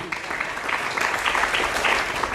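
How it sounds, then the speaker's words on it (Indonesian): A crowd claps steadily for a couple of seconds, a dense, even patter of many hands in a room. "Tepuk tangan."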